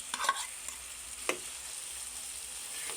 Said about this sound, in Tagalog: Ilagay na rin natin yung ating patatas, guys.